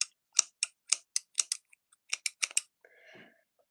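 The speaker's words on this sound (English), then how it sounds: "Listen to how shitty these scissors are" A pair of bent, poor-quality scissors snips through hair about a dozen times in quick, uneven succession, crisp and close, followed by a brief rustle.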